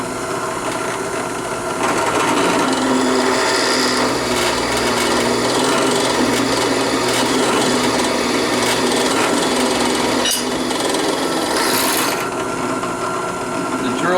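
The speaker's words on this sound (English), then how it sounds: "Rather than reset the mill, I'm just going to drill these holes on my little drill press here." A small benchtop drill press bores holes for a dial indicator mount on an Atlas lathe, giving a loud, steady motor whir with rasping cutting noise that runs continuously for most of the clip.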